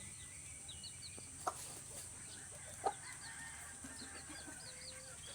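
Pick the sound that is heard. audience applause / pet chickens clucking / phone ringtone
pet chickens clucking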